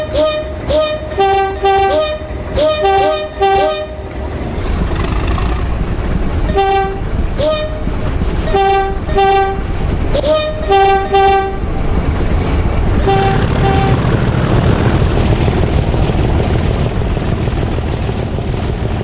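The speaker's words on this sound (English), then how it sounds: "And now, the final departure back to Renford, supported by horn salute." A railhead treatment train sets off back toward its depot, sounding its horn in a salute of repeated two-tone blasts in short bursts, then its engine rises into a loud, steady roar as it departs.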